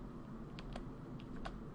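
Someone types on a computer keyboard while entering numbers into software: a handful of light, irregular key clicks, faint and close, over a low steady background hum.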